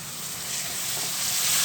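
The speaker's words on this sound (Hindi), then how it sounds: "इसके मसाले को अच्छे से भूनूंगी।" Spice masala of turmeric, coriander, coarsely crushed red chilli and Kashmiri deggi mirch sizzles steadily while frying in a pan, a close, continuous hiss that grows slightly louder, with no talking.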